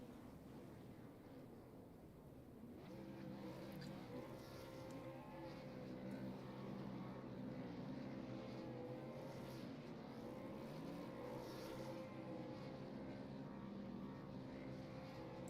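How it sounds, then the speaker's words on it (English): Racing trucks in a video game spin dueling donuts on the front stretch, a steady, continuous engine drone with layered revving tones holding at constant loudness throughout, fairly distant and uniform, no voices. "So we got dueling donuts here on the front stretch."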